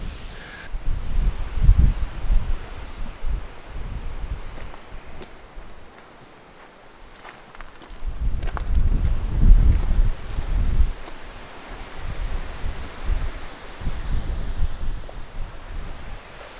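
Outdoor wind gusting during truck camping in hot weather, a loud low rumbling buffet across the mic that swells, drops away briefly, then returns in waves.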